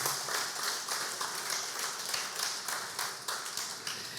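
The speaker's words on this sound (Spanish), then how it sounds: "dale palmas al Rey, por favor. Apláudele fuerte" A church congregation applauds loudly and steadily, a dense wash of many hands clapping throughout with no pauses.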